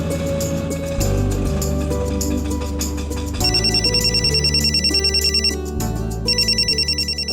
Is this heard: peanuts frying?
no